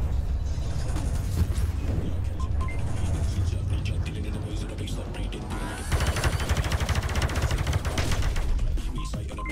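Ion weapons firing in the VR shooter Space Pirate Trainer, rapid bursts of zapping blasts over a steady low rumble of game sound, growing denser and louder in the second half.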